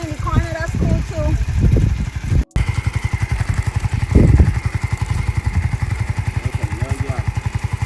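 A new motorcycle engine idling and chugging with a fast, steady pulsing beat close by, a short cutout early on, and people talking over it at the start.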